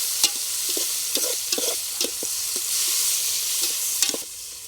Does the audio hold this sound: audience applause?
no